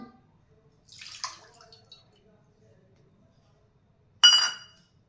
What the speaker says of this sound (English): Put the water into the bowl.